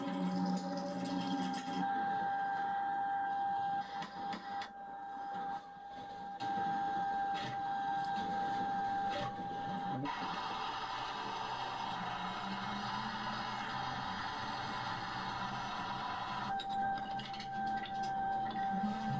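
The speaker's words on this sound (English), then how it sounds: "So I need to slice this on the bandsaw." Bandsaw slicing through a piece of olive wood, a continuous close mechanical whine with a steady tonal hum and rising cutting noise, running without pause.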